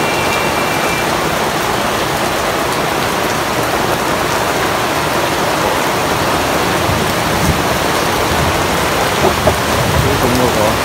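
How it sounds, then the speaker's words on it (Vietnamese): Heavy rain falls steadily outdoors near a village market in Vietnam, a loud continuous wash of noise with a few faint low rumbles and small knocks toward the end. "đang định về mà không về được các bạn, mưa quá"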